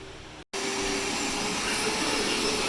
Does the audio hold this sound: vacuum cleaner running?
yes